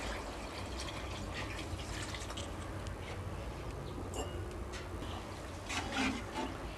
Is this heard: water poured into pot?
yes